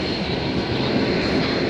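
A CN freight train led by five diesel locomotives, one of them an Illinois Central unit, passes Bayview Junction with a steady, loud, close roar and rumble. No one speaks over the sound.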